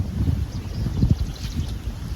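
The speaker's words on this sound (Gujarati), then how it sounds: "આ જો પવન ચાલુ થયો તો વરસાદ આવે એવું છે" Gusty wind buffets the microphone outdoors before rain, a low rumbling roar that swells and eases in uneven surges, close and fairly loud with no voices.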